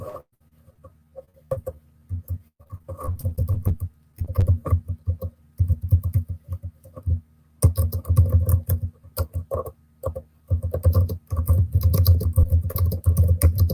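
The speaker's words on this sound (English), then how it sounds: "Okay, I'm typing the email." Someone types an email on a computer keyboard, close and fairly loud: bursts of rapid key clicks separated by short pauses, continuing throughout with no talking.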